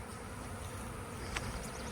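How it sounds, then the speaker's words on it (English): A swarm of honey bees fills the air with a steady, continuous buzzing hum, close and unbroken from start to finish, with one brief sharp click partway through. "There was a ton of bees in the air"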